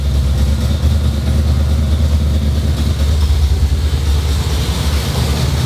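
A lifted 'donk' car idles steadily after a breakdown and repair, a loud constant low rumble with even texture throughout and no speech.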